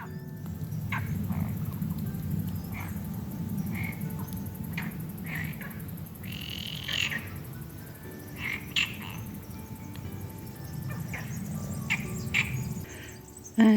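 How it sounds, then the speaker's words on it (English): A chorus of frogs and toads croaking around a garden pond, dense overlapping calls over a low constant drone, some near and some farther off, with no speech. "And the frogs and toads are putting on a choir."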